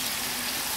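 Tomatoes frying in a pan, a steady close sizzle with a soft hiss that holds level throughout, no voices.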